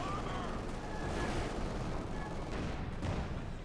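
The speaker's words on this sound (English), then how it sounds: "Machine gun team being bombarded by the two Panther 4s" In the video game Company of Heroes 2, two Panther tanks shell a machine gun team, producing a dense, continuous rumble of explosions and gunfire that lasts throughout, with no clear gaps between blasts.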